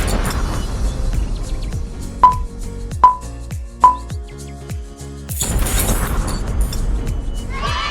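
A long chain of interlocked popsicle sticks bursts apart in a rapid clattering cascade of small wooden snaps, with several sharp louder clicks standing out and a brief rustling burst near the end.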